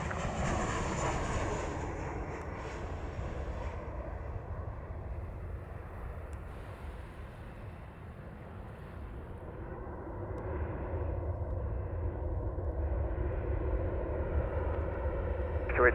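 Steady jet roar of an Airbus A330 airliner at Montego Bay airport in Jamaica, a broad continuous engine rumble heard from a distance, swelling slightly toward the end.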